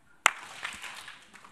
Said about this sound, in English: everyone who can hear, can you clap once?